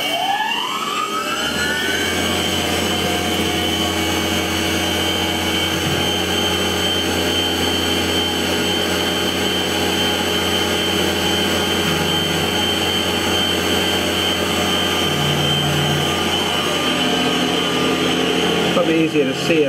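A Tormach CNC machine runs an engraving job, its steady spindle whine and motor drone holding loud and continuous for the whole stretch, with shifting tones as the cutter moves and a rising sweep at the start.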